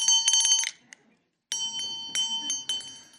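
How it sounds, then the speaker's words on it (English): A hand bell rung to end an intermission at a storytelling show: a bright burst of rapid metallic rings, a short pause, then more clear, loud ringing strokes that decay between shakes. "And when you hear this bell,"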